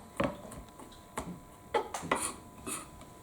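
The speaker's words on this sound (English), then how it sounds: "I'm going to crush the garlic, okay? And then I'm just going to slice it and dice it." A kitchen knife crushing, slicing and dicing garlic on a chopping board, heard as a handful of sharp, quiet knocks and taps spaced irregularly across about three seconds.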